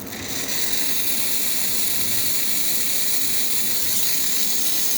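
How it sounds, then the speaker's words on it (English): Steady, loud hiss of steam from a Quickmill Monza espresso machine's steam wand, with a rattling mechanical undertone, continuous for several seconds with no pauses and no talking. "Let's just test the steam quick."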